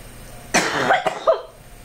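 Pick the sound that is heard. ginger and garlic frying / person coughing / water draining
person coughing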